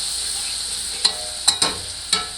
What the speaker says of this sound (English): swirl the butter around a little bit just so it coats the pan.